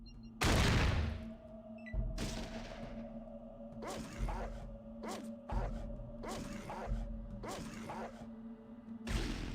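Gunshots fired at a creature's head in a Fallout video game: a loud single blast, then a string of sharper, quieter shots at uneven intervals over a steady mechanical hum.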